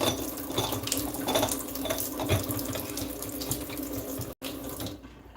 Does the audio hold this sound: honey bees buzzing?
no